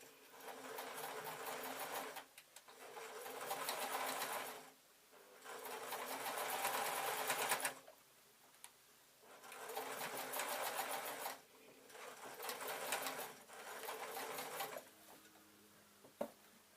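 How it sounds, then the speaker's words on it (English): A sewing machine stitching a red felt bag, running in several loud steady bursts of rapid mechanical whirring, each a few seconds long, separated by short pauses and a few clicks. "And then I am going to sew on the other side."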